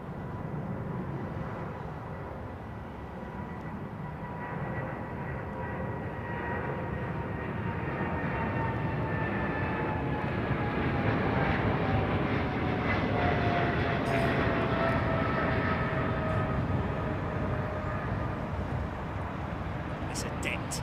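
A heavy aircraft departing Heathrow: a sustained, loud jet engine roar that builds slowly and holds over twenty seconds, with a whining tone sliding downward as it passes and a voice talking over it.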